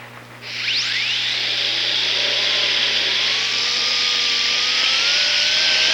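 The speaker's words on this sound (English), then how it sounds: "use a brand new soft Robinson wheel and some rouge" A dental rotary tool spins up and whines steadily while a soft Robinson wheel with rouge polishes a gold restoration, a loud continuous high hiss with slight pitch shifts under light pressure.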